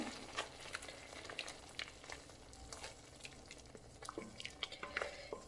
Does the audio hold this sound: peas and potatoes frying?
yes